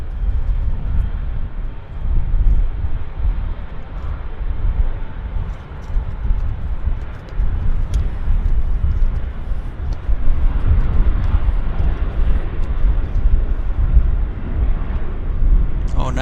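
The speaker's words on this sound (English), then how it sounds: "we've got, Alaska Airlines on the roll" An Alaska Airlines jet roars down the runway on its takeoff roll at Vancouver Airport, a steady, heavy low rumble heard from a distance that holds for the whole stretch with slight swells.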